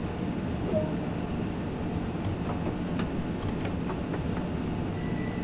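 A train pulls away from a platform in Train Sim World on the Seaford to Brighton route, a continuous low rumble with faint clanks and squeaks, steady and without speech.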